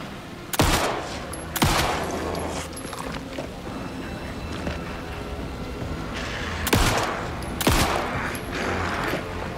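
Gunfire in the video game Alan Wake 2: two pairs of loud, sharp shots a few seconds apart, close and punchy, over a dark ambient game background.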